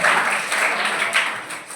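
A seminar audience on career options breaks into applause, a dense, even wash of many hands clapping together at moderate loudness with no voices over it.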